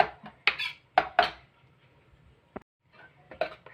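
A cooking pot of chow chow and moong dal kootu is opened with a few sharp metallic clanks of lid against pot, close and clear, then a lone tap and a final cluster of clinks.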